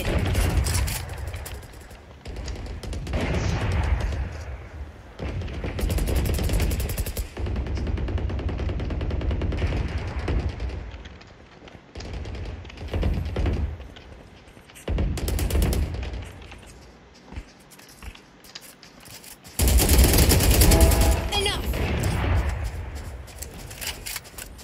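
Valorant gunfire during a deathmatch: rapid automatic bursts and single shots crack repeatedly over game ambience, with a dense loud barrage near the end.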